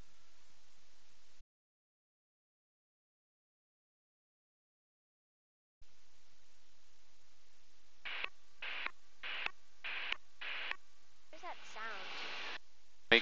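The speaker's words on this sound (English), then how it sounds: "Clicking the mic, that's pilot controlled lighting." Aircraft radio mic clicks keying pilot-controlled airport lighting from a Sling TSi, heard as a rapid series of short bursts of radio static after a long silent gap, each click separated by brief pauses, with a longer hiss of static at the end.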